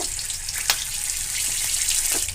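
Whole cumin, bay leaves and slit green chillies frying in hot ghee for kadai paneer, a steady close sizzle with a few brief crackling pops, no voices.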